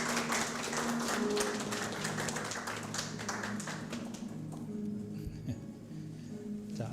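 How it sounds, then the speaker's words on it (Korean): An audience applauds at an award presentation during the 3rd Medical Technologists' Day commemorative ceremony in Korea. Steady, dense clapping fills the hall for several seconds, then thins and fades toward the end. "자, 큰 박수 부탁드립니다."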